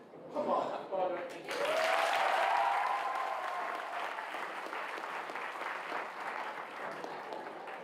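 Audience applause at an awards ceremony, a brief voice at the start followed by a swell of steady clapping from a crowd that stays loud and gradually fades a little.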